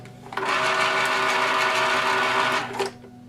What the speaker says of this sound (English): Here's a can opener, straight from my kitchen.